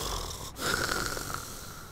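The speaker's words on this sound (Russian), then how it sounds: "Он очень грубо дышит, этот чувак" Heavy, rough, wheezing breaths from a character in the video game Montas, a steady raspy drone with a louder swell midway, heard alone without talk.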